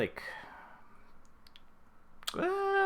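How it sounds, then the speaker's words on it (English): Dice, including a D20, clatter briefly with sharp clicks at the start and again near the end, and a voice begins speaking right after the second roll. "hopefully you can hear the dice, because hearing dice is always fun"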